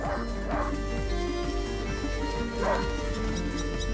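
A hunting dog barks and yips in the video game A Plague Tale: Innocence, with a few sharp barks and whimpers over a steady background ambience.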